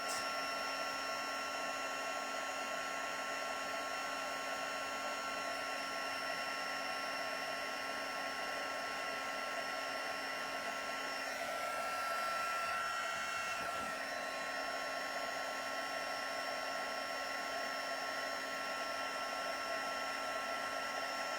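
An electric heat tool blows a steady, whining fan drone while setting embossing powder on card, continuous and close for the whole stretch, with a slight shift in tone midway as it moves.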